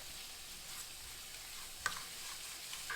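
Garlic sizzling in oil in a heavy casserole, a quiet, steady hiss with a small pop partway through.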